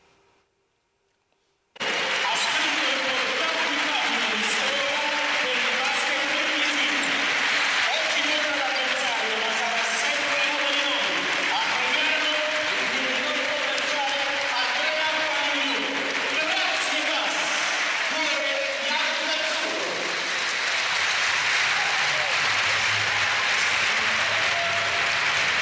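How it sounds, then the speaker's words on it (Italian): Warm, sustained applause from a former home crowd at a basketball arena, starting abruptly and holding as a dense, loud roar of clapping for over twenty seconds, with crowd voices mixed in and a slight easing near the end. "Caloroso, affettuoso applauso del suo ex pubblico"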